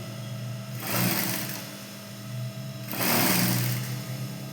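Sewing machine stitching a half petticoat, two bursts of rapid whirring stitches separated by a short pause while the fabric is adjusted, close and loud over a low motor hum.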